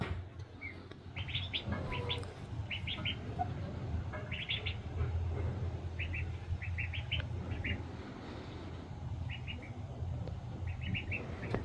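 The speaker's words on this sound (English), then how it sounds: "Still not sure what kind of breed these ducklings are." Young barnyard-mix ducklings peep in quick clustered bursts, with short runs of high chirps repeating every second or two over a steady low outdoor rumble.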